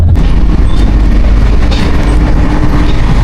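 A train runs along, heard from inside a local compartment on a trip from Kerala to Goa: a loud, constant rumble and rattle of wheels and carriage with faint squeals, filling the whole stretch without talk.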